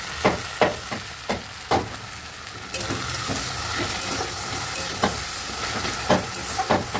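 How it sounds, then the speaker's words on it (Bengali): Chopped onion frying in oil in a pan for a Bengali mutton dish, a steady close sizzle punctuated by several sharp scraping stirs of a spatula, without talk. "পেঁয়াজটা আমার লাল লাল করে ভাজা হয়ে গেছে"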